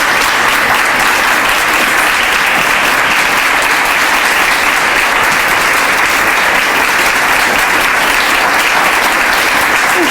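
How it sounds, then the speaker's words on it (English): Sustained, loud applause from a large audience at a community talk, steady dense clapping filling the whole stretch without a break and no speech over it. "You're applauding yourself because you all are doing the hard work"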